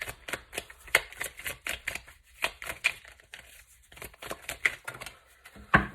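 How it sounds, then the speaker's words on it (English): Tarot cards are pulled from the deck and shuffled in a steady series of crisp, quick snaps and flicks, close and fairly quiet, with no voices. "So it looks like I'm just going to try to pull out 1 or 2 more cards for you guys,"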